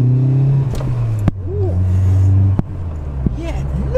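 A Ford Fiesta RS Turbo accelerating hard from inside the cabin, engine note rising steadily through the revs with a couple of sharp gear-change breaks, loud and close, with turbo whistle over the drone.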